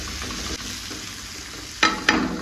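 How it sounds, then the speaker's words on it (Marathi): Onion and garlic frying in a pan for a brinjal dish, a steady low sizzle with two sharp bursts of hissing near the end, close by. "तिथं मी आता कांदा पण टाकला भाजायला."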